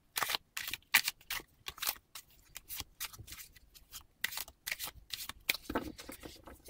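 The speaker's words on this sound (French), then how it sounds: "Je prends une carte." Playing cards are handled and drawn from a deck in a series of quick, crisp paper snaps and flicks, close and fairly quiet, arriving in irregular bursts with brief pauses between them.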